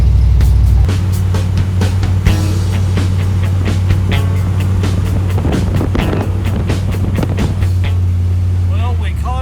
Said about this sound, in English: just got rerouted onto a gravel road for about 2 miles